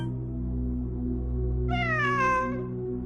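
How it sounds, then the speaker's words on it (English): A cat in the video game Genshin Impact gives a single clear, drawn-out meow over a steady low ambient game hum, with no speech. "It really is a cat."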